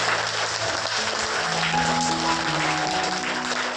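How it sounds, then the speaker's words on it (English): Students and staff at a school assembly give a sustained round of applause, dense clapping filling the room steadily without pause. "Let's give them a big round of applause."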